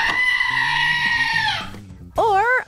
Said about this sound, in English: obnoxious goat noises from the Screaming Goat Book and Figure